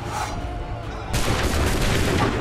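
Cannon and musket fire in the Assassin's Creed 3 video game, a dense burst of battlefield gunfire that swells suddenly and rumbles on loudly and continuously.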